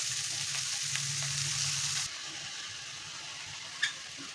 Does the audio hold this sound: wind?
no